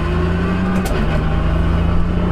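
A Lotus race car engine pulls hard in first gear, a loud, steady roar close by that holds strongly throughout with no pause.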